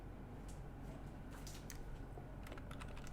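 Computer keys tapped during a spreadsheet lesson using Shift, Alt and arrow keys, heard as a few faint, scattered clicks in small clusters over a steady background hiss, with no talking.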